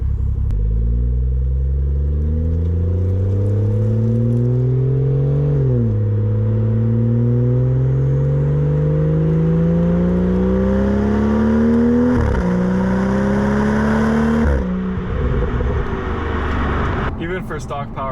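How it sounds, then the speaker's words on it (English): A BMW B5 fitted with a downpipe and Remus axle-back exhaust accelerates hard through several gears, its engine note climbing steadily with abrupt drops at each shift, loud and continuous from inside the car. "Even for stock power, this car just gets up so fast."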